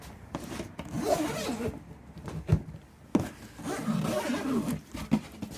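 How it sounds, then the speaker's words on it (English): The zipper on an SW-Motech bag mounted on a Royal Enfield Continental GT 650 rasps open in several uneven pulls, close and moderately loud. "It's got a zipper closure."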